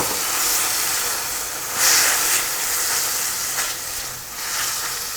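Steady hissing sizzle as water is added to a hot frying pan of browned onions, with a brief louder burst of steam partway through, continuing evenly throughout.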